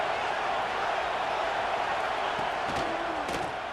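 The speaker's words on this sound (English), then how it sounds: "the crowd really making some noise now, trying to help out this defense to get this stop near the goal line." A dense stadium crowd roars steadily near the goal line during a College Football 26 game between Ohio State and Georgia, a continuous loud wash of cheering with a few sharp thuds near the end.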